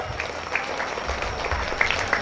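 Audience at a children's Quran memorization public exam for a TPQ class applauding a student's recitation, a moderate scattered clapping with a few sharper claps, fairly even and unbroken.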